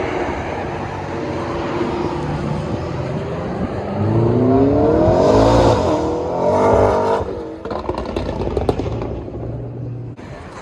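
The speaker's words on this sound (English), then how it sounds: "There's like some cars that are taking off." Cars at an outdoor car show accelerate away with rising engine revs that swell loudly mid-clip, then fade into a steady background rumble with scattered thumps and clatter.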